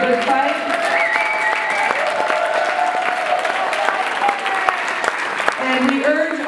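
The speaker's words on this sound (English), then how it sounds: "Let's give them a round of applause for fighting the good fight." A conference audience claps in sustained, loud applause that fills the hall throughout, with voices and tones over it.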